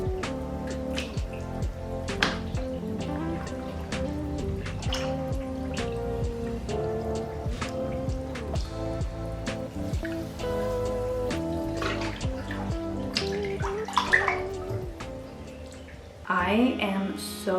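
A bath bomb fizzes in a filled bathtub, a steady close crackle of popping bubbles and tiny drips with faint tonal hum underneath, ending in a brief louder splash.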